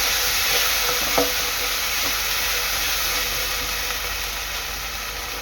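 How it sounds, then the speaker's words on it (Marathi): Ground masala paste frying in hot oil, giving a loud, continuous hiss and sizzle close by with a couple of faint stirring knocks. "वाटण वाटण चांगलं तेलात शिजून घ्यायचं आहे"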